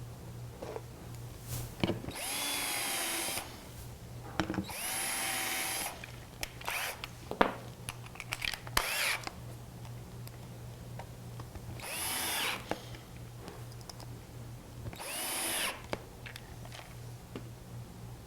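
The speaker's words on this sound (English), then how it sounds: "use our Vicks bit and pre-drill our last hole on the mounting plate" A power drill fitted with a self-centering Vix bit whirs in several short bursts with pauses between, pre-drilling a screw hole for a hinge mounting plate on a cabinet door; close and loud over a faint steady hum.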